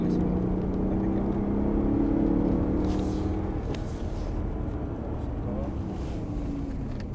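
BMW M3 engine droning steadily under acceleration on a driving-course track at Fontenay-le-Comte, loud and continuous with wind buffeting, while an instructor talks over it.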